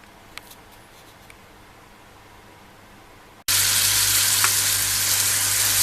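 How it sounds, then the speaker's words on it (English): Vegetables for veggie burger cutlets, including parsnips and onions, are lightly fried in a pan. There are a few faint clicks at first, then a loud, steady sizzle starts suddenly and keeps going. "lightly frying them to soften them and to make them more suitable for mixing into my cutlets."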